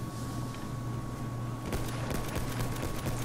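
Pistol shots in Battlefield 1 crack out in a quick string of sharp reports, several closely spaced bangs after a steady low background hum, fairly faint overall with no talking.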